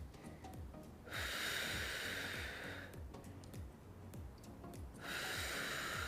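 Deep breaths from a seated exercise: a long, close inhale rises twice with hissing airflow, each followed by a quieter exhale, against faint background clicking.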